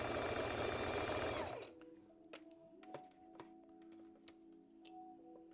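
A sewing machine runs briefly on a dress band seam, a loud close whir that stops after about a second and a half, followed by faint ticks and clicks of the machine at rest.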